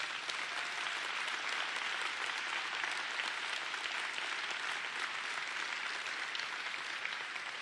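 An audience applauds city employees during a Denver mayor's State of the City address, a sustained dense wash of clapping from a large crowd, even and loud for the whole stretch with no voices on top.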